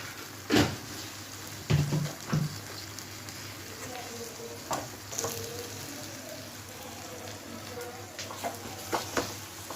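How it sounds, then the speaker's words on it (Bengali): Spices such as coriander powder and ingredients for a chhana potol dorma frying and being stirred in a pan: a low steady sizzle broken by several sharp scrapes and clacks of a spoon at irregular intervals, close by. "দিয়ে আমি প্রত্যেকটা জিনিস ভালো করে কষিয়ে নিচ্ছি"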